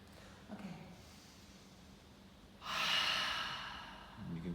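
A woman breathes during a big toe massage: a soft breath early on, then a longer, fuller exhale or sigh in the second half, followed by another quieter breath, all close and gentle with no talk.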